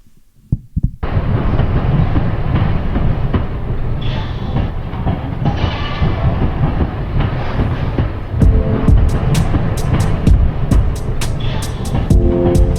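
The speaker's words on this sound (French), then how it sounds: "Donc je vous invite à monter dans le train avec moi," A train rolls along the tracks, a dense continuous rumble with rhythmic clacking and occasional sharp metallic clicks, starting abruptly after a brief quiet moment and staying loud and close.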